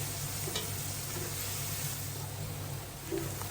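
Onions sautéing with salt in a pan give a soft continuous sizzle and faint frying crackle, low and close, with an occasional light stir and no voices.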